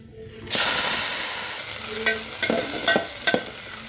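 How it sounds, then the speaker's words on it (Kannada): Sprouted beans fry in hot oil for a Mumbai-style misal pav, a sudden loud sizzle that slowly fades, broken by several sharp scraping stirs of a spoon against the pan near the end. "ಇದನ್ನು ಒಂದು ಸ್ವಲ್ಪ ಹುರ್ಕೋಬೇಕಾಗತ್ತೆ, ಎಣ್ಣೆ ಹಾಕಿ ಫ್ರೈ ಮಾಡ್ಕೊಳ್ಳೋಣ"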